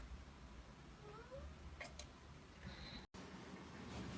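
A pet cat in a home gives a few faint, short meows against a quiet room hum, followed by a brief dropout and soft background noise.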